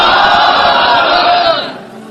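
A large crowd chants a religious slogan in unison, a loud, sustained massed roar of voices holding for about a second and a half before fading away.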